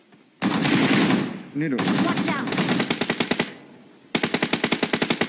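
Rapid bursts of automatic gunfire from a shooter video game, loud and close, with steady rattling volleys and a brief pause midway, a short spoken phrase over the shooting.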